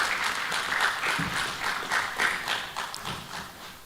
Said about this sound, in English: Another round of applause for Professor John Gyapong.